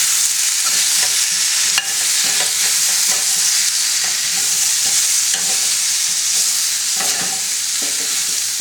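Pommecythere amchar with amchar masala and salt being stirred in a pot, a steady loud sizzle with repeated scraping strokes of the spoon throughout, no talking.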